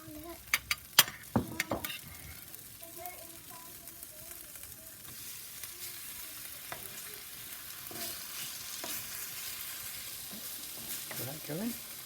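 Steaks searing on a soapstone slab over a wood fire give a soft, steady sizzle with a few clanks and knocks at first. Brief faint voices come in near the end.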